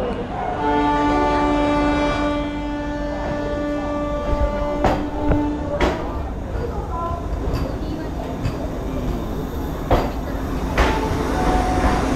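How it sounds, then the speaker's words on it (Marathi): A Vande Bharat Express train arrives on the Pune to Mumbai route with a loud sustained horn blast, then rumbling carriages and sharp clanks; voices chatter faintly in the background of the platform. "आपले वंदे भारत ट्रेन आले"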